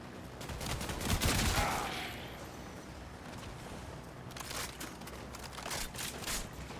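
Gunfire in the video game Warframe, a burst of rapid shots swelling early then continuing as a dense, crackling barrage at moderate distance with no talking.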